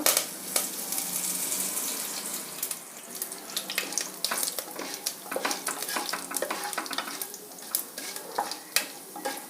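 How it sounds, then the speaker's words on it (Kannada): Mustard seeds with urad dal and chana dal crackle and sizzle in hot oil for a tempering, dense close spattering pops with occasional stirring, steady throughout and without speech. "ಎಣ್ಣೆ ಬಿಸಿಯಾಗಿದೆ, ಸಾಸಿವೆ ಹಾಕ್ತಾಯಿದ್ದೀನಿ. ಸ್ವಲ್ಪ ಉದ್ದಿನಬೇಳೆ ಮತ್ತು ಕಡಲೆಬೇಳೆ ಎರಡು ಮಿಕ್ಸ್ ಮಾಡಿ ಹಾಕ್ಕೊಳ್ತಾ ಇದ್ದೀನಿ"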